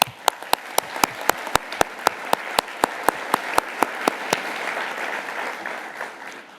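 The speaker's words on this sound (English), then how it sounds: "Please let's give them all a warm round of applause" At a conference closing ceremony, clapping honours award winners, led by a single sharp, close pair of hands beating a steady rhythm over a softer crowd that fades gradually toward the end.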